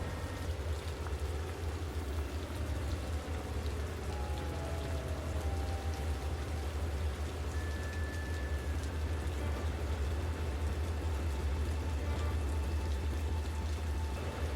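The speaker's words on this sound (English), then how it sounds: "it was pouring rain" Steady, heavy rain pours down continuously, a dense wash of drops with a low rumble underneath, no voices.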